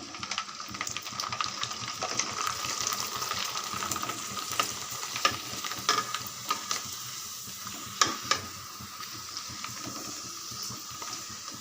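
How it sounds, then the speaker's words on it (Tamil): Vethal (sun-dried vegetable crisps) frying in hot oil, a steady close crackling sizzle with light stirring and occasional sharp pops, no voices. "சூப்பராக பொரிஞ்சு வருது பாருங்கள்"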